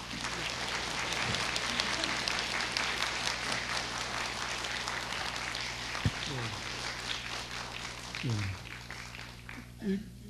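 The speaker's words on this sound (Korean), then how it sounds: "큰 박수로 맞아주시기 바랍니다" Broad, sustained applause from a lecture audience welcoming the mayor of Seoul fills the room, with a few voices rising over the clapping.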